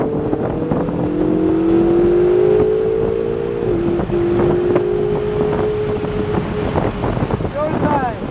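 Ferrari race car at NCM Motorsports Park accelerating on track, engine tone rising steadily and shifting up through gears under heavy wind noise, heard from inside the cabin.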